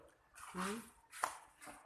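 A dog gives a couple of short barks and a yip at a moderate distance, mixed with some faint background voices.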